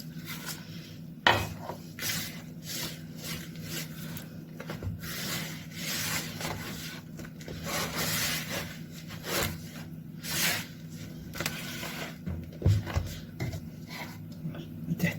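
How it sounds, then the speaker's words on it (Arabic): Shami bread dough being kneaded by hand as water is added to the flour in a bowl, giving soft irregular slaps, rubs and occasional knocks against the bowl, close and moderately loud with faint room noise. "هعجن بقى بالميه"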